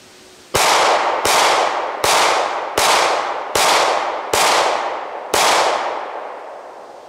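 Springfield Hellcat 9mm pistol fired seven times, loud sharp shots spaced about a second apart, each followed by a short ringing decay, outdoors with no talk.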